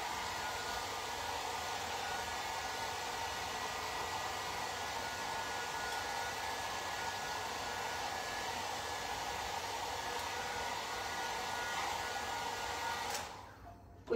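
A hair dryer blows with a steady, loud whooshing roar for a long stretch, then cuts off abruptly near the end.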